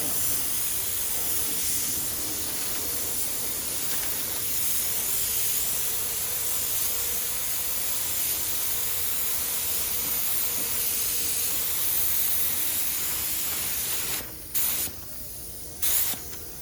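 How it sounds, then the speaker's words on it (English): Spray gun laying a coat of primer onto a Honda Pilot fender, a steady close hiss running almost unbroken for about fourteen seconds before stopping and restarting in short bursts. "Now, we'll go over and reprime this fender. Put another coat on here, or reprime it."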